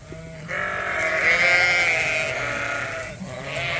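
Ewes on pasture give one long, loud, wavering bleat close by, with a second bleat starting near the end and a low rustle of the flock underneath.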